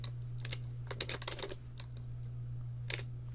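A password being typed on a computer keyboard: a quick burst of close, crisp key clicks, a short pause, then a few more taps, all at low volume in a quiet room with a steady electrical hum underneath.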